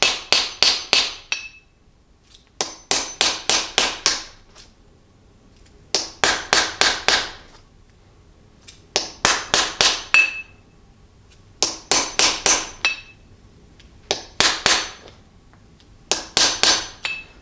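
A hammer strikes an axe head being seated onto a new wooden handle, sharp ringing blows in bursts of three to five with short pauses between, close and clear with no talk.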